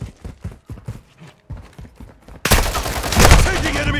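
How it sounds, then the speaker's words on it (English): Rapid gunfire bursts from Call of Duty: Modern Warfare II erupt loudly in the second half, following a stretch of clipped in-game voice callouts. "Taking enemy fire!"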